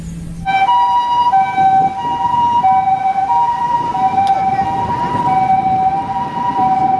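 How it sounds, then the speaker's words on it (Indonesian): A toy ambulance siren wails steadily and loudly for several seconds in a repeating two-tone pattern, close by over a faint background hum, with no talking. "Wih, lihat teman, ada mobil ambulan."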